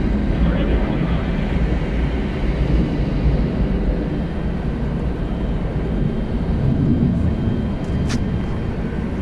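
A Delta Connection Mitsubishi CRJ 900LR regional jet arriving at Atlanta Hartsfield-Jackson, heard as a steady, moderately distant engine rumble and whine with no sharp peaks.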